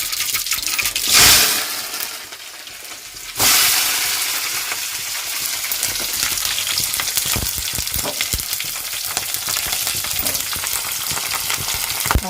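Tomato thokku, a tomato pickle, fries loudly in a pan, giving a dense, continuous sizzle with crackling bursts and stirring scrapes throughout. A sudden louder surge comes early on, and no one speaks.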